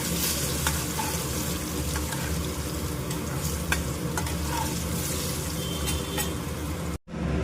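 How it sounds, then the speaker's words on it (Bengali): Potato pieces fry in hot oil in a kadai with a continuous dense sizzle and occasional stirring scrapes, loud and close, before cutting off abruptly near the end. "আলুটা আমি লাল লাল করে ভেজে নিচ্ছি"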